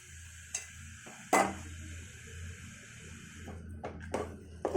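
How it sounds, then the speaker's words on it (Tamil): A spoon stirs a rava pongal mixture of semolina, grated coconut, and ghee-fried cashews and raisins in a pan, making soft scrapes and a few sharp clinks against the metal over a quiet background. "போட்டு எல்லாத்தையும் மிக்ஸ் பண்ணிக்கோங்க"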